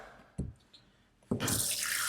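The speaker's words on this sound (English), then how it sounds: "You get the water and wash from here, you see, and your beard like this." Tap water runs and splashes during ablution (wudu) face washing: a short splash, then a steady loud rush of water from a faucet near the end, with no talk.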